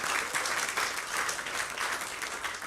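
A church congregation applauds, dense clapping that comes in rolling waves of rising and falling loudness, fairly close and filling the room, with no talking over it.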